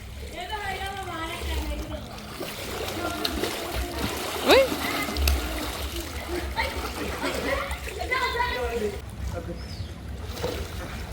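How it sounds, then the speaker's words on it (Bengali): Water splashes and sloshes in a swimming pool throughout, with people talking and calling out nearby over the wet, churning sound. "তো চলুন যাও যাক সুইমিং পুলের দিকে ওইখানে মিশারি পানিতে নেমেছে"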